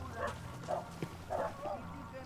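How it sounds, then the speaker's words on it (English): Dogs barking in the video game Max Payne 3, a few distant, muffled barks spaced across a steady background hum, with faint speech mixed in. "I hear dogs barking."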